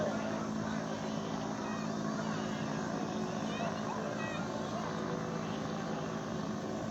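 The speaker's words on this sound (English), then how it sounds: "Ankur Yadav and Sergeant Vishal, who are flying past this August gathering in the paramotor." A paramotor, an ultralight aircraft with a 26-horsepower motor under an elliptical canopy, flies past over Dal Lake in Srinagar at an Air Force air show. Its steady droning engine noise fills the whole stretch, with voices mixed in.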